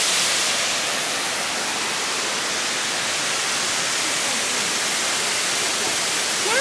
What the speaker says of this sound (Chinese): 瀑布。